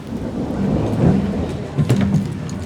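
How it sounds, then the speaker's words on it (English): Rain falls steadily outdoors with a low rumble of thunder rolling underneath, loud and continuous, with a couple of swelling peaks of thunder and no voices. "It's raining outside"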